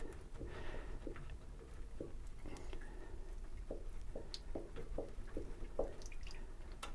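Water dripping from the unscrewed filter of a tankless water heater, a series of distinct small drips falling at an irregular, unhurried pace, close and fairly quiet with no speech.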